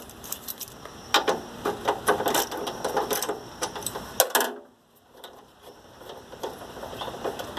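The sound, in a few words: ratchet with 10 mm socket turning headlight bolts on Astro Van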